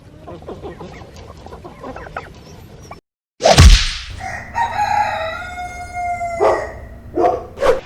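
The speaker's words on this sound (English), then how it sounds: "these little chickens get along with our goats, with the turkey over there" Chickens and a rooster on a small farm, kept alongside goats and a turkey, cluck and crow in loud, overlapping calls after a brief silence, with several sharp squawks near the end and no talking.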